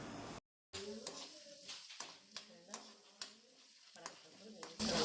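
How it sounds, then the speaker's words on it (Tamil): Chana dal roasts in oil in a pan on medium heat, with a soft sizzle and a regular series of clicks and scrapes from stirring, while a voice talks over it. "கடலைப்பருப்பு ஐம்பது கிராம் அளவுக்கு எடுத்துருக்குங்க இப்போ சேர்த்துக்கலாம் மீடியமான தீயில் வச்சு நல்லா செவந்து வர வரைக்கும் வறுத்து விட்டுக்கலாம்"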